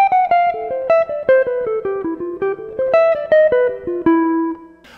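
Jazz guitar lick from a solo: a quick run of about twenty clean single notes, mostly descending with a brief rise, ending on a held note, played alone.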